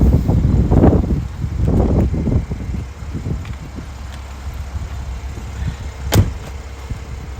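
A 2017 Mercedes SL 400 AMG Sport's motorized convertible roof whirs and clunks as it rises, with several mechanical thuds early and a sharp click near the end, recorded outdoors with wind.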